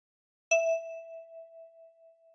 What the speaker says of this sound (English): With your left thumb, pluck 3.